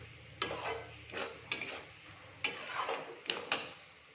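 Green peas frying in a pan while a spoon stirs them, giving four distinct scraping strokes at a slow, uneven rhythm over a faint sizzle, close and fairly quiet.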